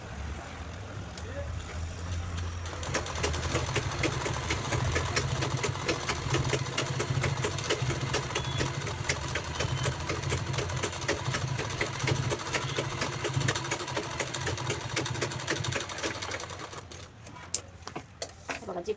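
A sewing machine runs in a steady, fast continuous whir for most of the stretch, stitching a zipper onto the main fabric of a designer purse, then slows and stops near the end with a few clicks.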